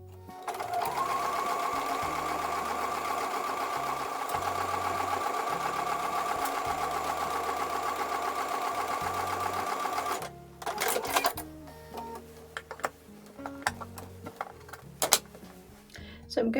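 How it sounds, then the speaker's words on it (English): Sewing machine stitching quilt block pieces for a woven star block, a fast steady mechanical whirr for about ten seconds that stops abruptly, followed by short handling clicks and quiet talking. "So I'm going to go back over to the sewing machine."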